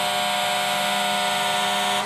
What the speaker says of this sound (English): the sound of air horns ordering firefighters to evacuate